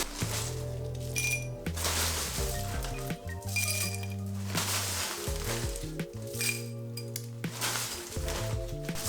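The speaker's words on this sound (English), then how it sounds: "And then I'm gonna fill the glass with crushed ice." Crushed ice clinks and rattles into a cocktail glass while making a strawberry gin smash, in several bright bursts of clattering pieces separated by short pauses, with a faint low hum underneath.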